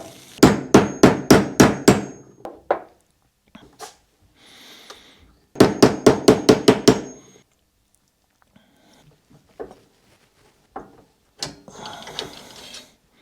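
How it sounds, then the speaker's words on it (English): A hammer taps a swingarm bearing into the linkage of a KTM 250 SX motocross bike, with two bursts of about six quick, sharp metallic strikes and a few scattered single taps between quiet pauses. "push it a little bit in with the hammer"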